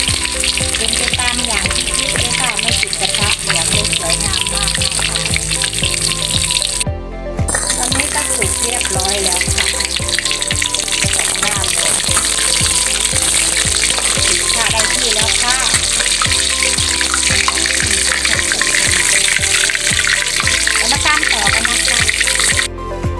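Fish frying in a pan, with a loud, steady sizzle and crackle that runs almost without break, pausing once briefly partway through.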